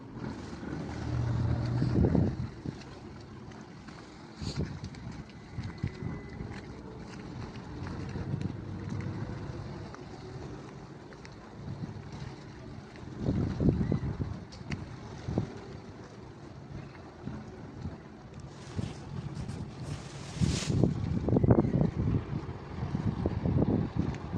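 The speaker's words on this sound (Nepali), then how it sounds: "अब यसले पार्किङ गर्नको लागि, साइड लाउनको लागि मोडेको अवस्था छ" A crowded passenger ship turns and edges in to dock, its low rumbling engine and water wash rising and falling amid gusty wind noise, with louder surges near the end.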